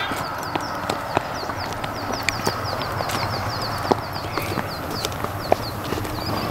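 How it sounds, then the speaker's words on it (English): Horse hooves clip-clop steadily in a quick, even rhythm during a trail ride in Montana or Colorado, with birds chirping over a constant outdoor background and occasional sharper hoof strikes standing out. "Control your horse, bud."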